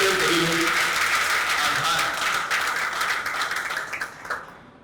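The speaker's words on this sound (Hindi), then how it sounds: "भाई एक बार जरा तालियां बजाकर" Audience applause at a Hindi poetry gathering welcoming a poet, a full crowd clapping loudly with a faint voice underneath at first, then tapering into scattered claps and silence.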